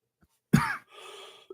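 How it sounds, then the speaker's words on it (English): A man coughs once, loud and close, a harsh burst that trails off into a raspy exhale, followed by quiet. "Did not mean to cough like that."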